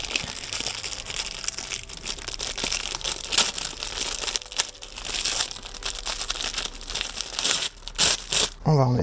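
Double-sided tape is pulled and torn off a roll in loud crinkly rips and crackles, with a few sharp tearing bursts toward the end, while a person talks over it.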